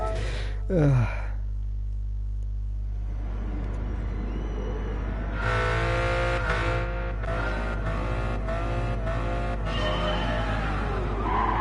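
A Pagani supercar in Gran Turismo 7 loses traction, its engine drone running continuously while tires squeal and skid in long, loud stretches that flare up repeatedly in the second half.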